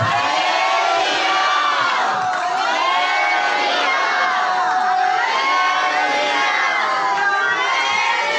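A large crowd at a church prayer meeting shouts and cheers together in loud, sustained waves of voices, rising and falling without a break.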